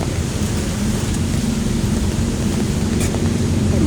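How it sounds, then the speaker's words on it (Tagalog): Steady rain falls on a street in Binondo, Manila's Chinatown, a dense continuous wash with a heavy low rumble, loud and close throughout with no pauses. "Kala, inabutan na tayo ng ulan."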